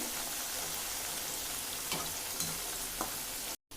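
Jackfruit chips fry in oil, bakery style, with a constant, dense crackling hiss, close by, broken by a few faint taps and a brief dropout near the end.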